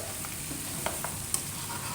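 Mutton karahi sizzles steadily in a pan with black pepper, a constant close crackle with a few sharp clicks from stirring, no voices.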